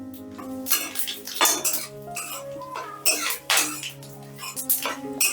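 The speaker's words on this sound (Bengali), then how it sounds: "ফোড়নটা একটু নাড়াচাড়া করে নিচ্ছি" Whole spices (cardamom, cinnamon, dried red chilli, bay leaf and cumin) stirred in hot oil in a pan, with a spoon clinking and scraping against the metal in irregular bursts, close and fairly loud, with a sustained tonal hum underneath.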